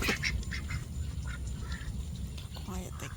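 Farm ducks quacking at feeding time alongside pigs, a busy cluster of nasal calls close to the microphone over steady low background noise, with a voice speaking nearby.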